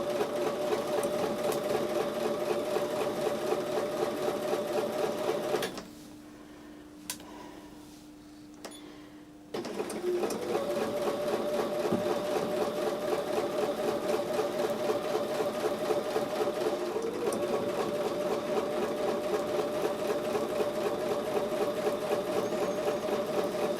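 A sewing machine sews a 1/4 inch quilt seam, running steadily in a rapid mechanical whir, stopping briefly for a few seconds, then resuming stitching at the same even pace.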